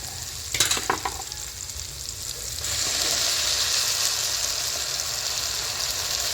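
Ground tomato paste hits hot oil for a village-style bitter gourd and field bean sambar, starting with a few clatters before a loud, steady sizzle and fry takes over and holds.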